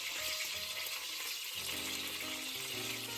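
Onions, carrots and celery frying in oil in a pan, a steady broadband sizzle throughout with faint clinks and tonal kitchen sounds underneath, no talking.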